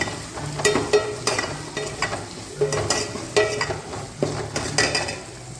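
Small shallots and chopped tomato sauté in a pan for a chicken curry, a close, steady sizzle punctuated by repeated rhythmic scrapes of a spoon stirring the mixture.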